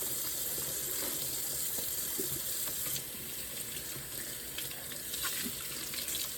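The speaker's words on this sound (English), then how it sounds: "I guess I'm gonna wash up 8 jars here." Canning jars are washed in a kitchen sink under a running tap, with continuous water flow and occasional light clinks and splashes close by.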